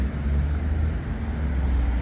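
Two big trucks pass on a road with a heavy, steady low rumble of engines and tyres at close range, fairly loud and unbroken, with no one speaking.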